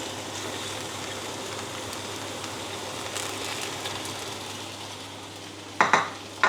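Pork frying in a pan with garlic and spring onions for Thai pad kra pao, a steady close sizzle throughout with a couple of brief stirring scrapes near the end.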